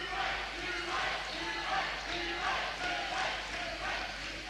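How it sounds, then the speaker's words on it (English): A boxing crowd roars and cheers steadily for fighter Hugh Forde at a live bout, a dense, sustained wall of voices with a few swelling surges. "And the crowd getting behind Hughie Forde and realising now that this is no pushover."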